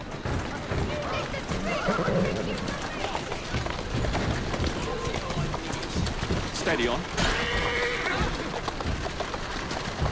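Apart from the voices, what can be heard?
horse neighing and hooves in video game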